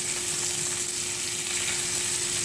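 Scallops frying in a pan for a white wine butter sauce, a close, steady, dense sizzle with no talking.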